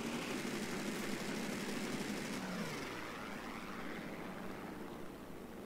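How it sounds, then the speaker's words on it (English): A propeller aircraft in the War Thunder game passes overhead, its engine drone loud and close at first, with a descending pitch sweep as it flies by and then fades steadily away. "I didn't expect to have any aircraft over here."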